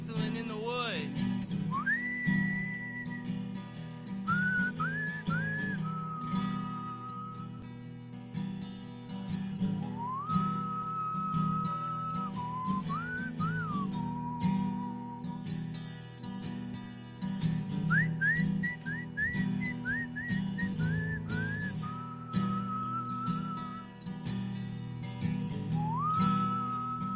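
A person whistles a slow folk-style tune during a mountain opry stage play, with clear sustained notes and short trills. A low steady hum from the stage or house sound runs underneath the whole time.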